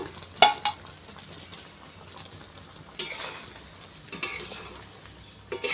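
Mango pickle cooked with jaggery is stirred in a pan. Quiet scraping and a handful of spaced-out utensil clinks sound against a faint low simmer, with no talk.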